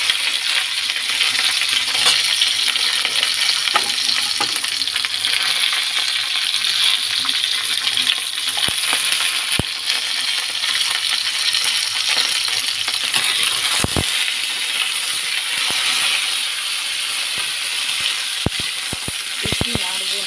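Green chillies sizzle in a pan of cooking matar dal with vegetables, a steady, loud hiss of frying broken by sharp metallic clinks of a spoon against the pan.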